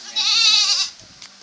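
A goat bleats once, loud and close, in a long wavering cry that trails into quiet with a faint rustle afterward.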